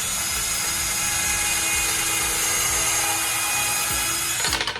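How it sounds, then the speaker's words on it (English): Power drill bores a hole into a wooden work bench, a steady high whirring motor sound held close and loud for several seconds, then stopping abruptly. "So now I'm going to drill my second hole."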